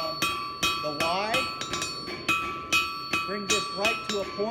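Hammer blows ring out on a small metal heart pendant being hand forged, a rhythmic series of bright metallic strikes with bell-like tones, roughly a dozen hits at an uneven tapping pace, with someone speaking between them.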